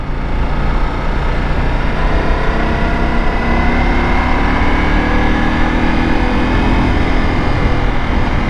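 A 2022 Ducati Multistrada V4S motorcycle engine drones steadily while riding in touring mode, with loud, continuous engine and wind roar and no talking.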